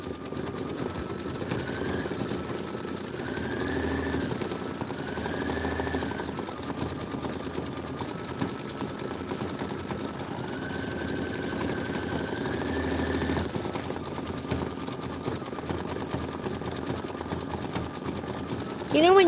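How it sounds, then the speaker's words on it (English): An embroidery machine stitches a Kimberbell Enchanted Winter design in the hoop, giving a steady, continuous mechanical whir with small shifts in pitch throughout, close by and moderately loud, with faint voices in the background. "You didn't get to watch any stitching."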